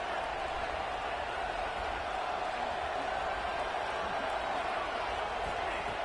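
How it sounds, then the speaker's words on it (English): A college football stadium crowd at Miami versus Virginia Tech keeps up a steady, dense roar throughout, broad and distant-sounding, without clear individual voices. "Listen to the crowd energy here in the early going."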